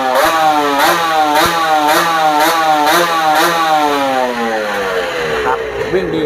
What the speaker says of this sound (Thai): บิดขึ้นตามมือเลยนะครับ